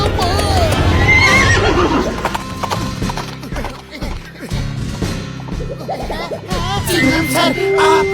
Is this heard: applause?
no